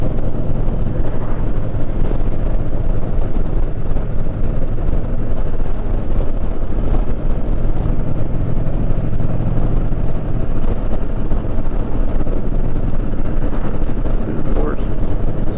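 Steady roar of a group of motorcycles, including an Indian Challenger, cruising at speed on a highway, with constant wind rush and road noise throughout, several bikes blending into one continuous drone.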